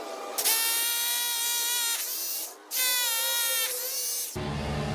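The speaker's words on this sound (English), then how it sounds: "And I'm going to use my drill and toggle setting to do this." A power drill in hammer mode bores a hole for a Tapcon screw during an onsite railing post repair at a condo, two loud high-pitched whining bursts with a short pause between, close up.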